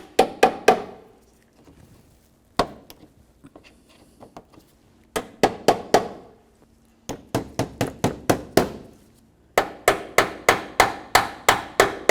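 Sharp clicking taps in quick bursts, several rapid hits at a time with pauses between, close and fairly loud, as plastic push clips are pressed and locked into place while installing a hood latch on a 2003-2007 Honda Accord.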